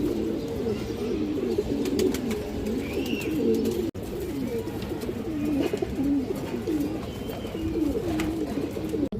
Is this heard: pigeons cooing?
yes